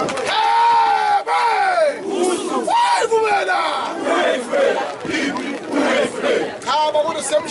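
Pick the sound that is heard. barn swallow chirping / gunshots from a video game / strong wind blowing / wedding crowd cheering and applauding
wedding crowd cheering and applauding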